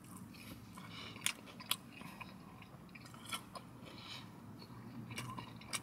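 Someone chews and bites into pepperoni pizza close to the mic, giving soft, irregular crunches and mouth sounds with a few sharper bites, fairly quiet and without talk.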